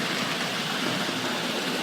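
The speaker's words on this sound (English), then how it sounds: "And then here's the Dublo train coming through now," A Hornby Dublo model train with three coaches runs along its track, a steady, dense rumbling whir with no voices.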